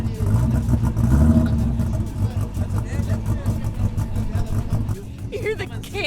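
High-horsepower sand buggy with an aggressive cam revving in the desert dunes, a lumpy, loping engine note that swells and falls, loud and close, with voices talking over it.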